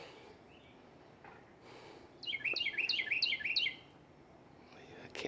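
Clear whistled song of a cardinal in a side yard permaculture garden bed, five or six rapid repeated slurred notes at moderate distance, standing out over a faint outdoor hush with a brief thump near the end.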